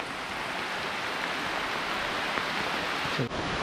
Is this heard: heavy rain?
yes